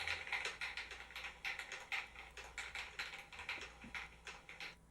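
Mechanical computer keyboard keys clack in a quick, uneven typing rhythm, each keystroke a crisp close tap against a faint low hum, with no talking.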